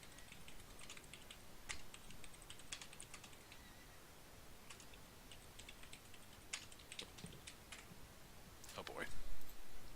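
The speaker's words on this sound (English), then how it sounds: "Oh boy, more typing." Typing on a computer keyboard during a tabletop role-playing session, scattered rapid key clicks in short runs over low background murmur and faint voices.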